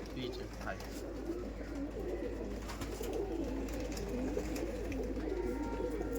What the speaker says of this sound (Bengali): পায়রা দেখছো